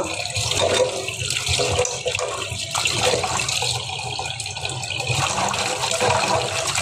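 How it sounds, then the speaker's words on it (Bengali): Cut vegetables being rinsed under a running kitchen tap, a steady close rush of water splashing over the pieces in a sink throughout, with no voices. "ভালো করে ধুয়ে নিচ্ছি।"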